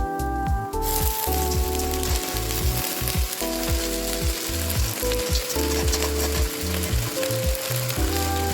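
Washed moringa leaves frying in a pan with garlic and green chili, a dense continuous sizzle under a rhythmic clicking, ratcheting mechanical pattern, loud and close throughout.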